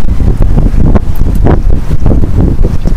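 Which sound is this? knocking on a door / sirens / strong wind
strong wind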